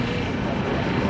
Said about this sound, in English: Now coming through, we see the two T-6A Texan IIs.